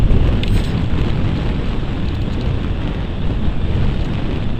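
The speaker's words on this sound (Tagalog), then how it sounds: "Pakalakas pa ng hangin mga chong." Strong wind roars steadily across the microphone during a solo ride on a Honda Fazzio scooter along a quiet rural road, a loud, unbroken rumbling buffet with no voices.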